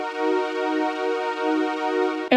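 A UAD Polymax synth preset played dry without effects: one sustained bright, harmonically rich chord held steadily for about two seconds with gentle wavering, then stopping abruptly.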